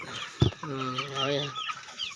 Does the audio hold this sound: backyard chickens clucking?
yes